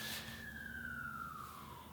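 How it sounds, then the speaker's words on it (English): A siren wails with a slowly falling tone, steady and fairly distant, over a low rumble of traffic. "sorry, siren"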